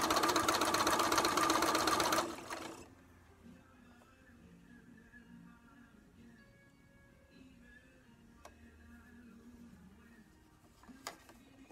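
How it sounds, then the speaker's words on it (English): A sewing machine stitches quilt blocks together, loud and steady for about two seconds, then stops, leaving quiet room noise with a couple of small knocks. "I just got 11, 12 more to sew together"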